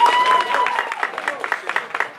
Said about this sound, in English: Can we have a round of applause for all the folks here at the Rialto Theater?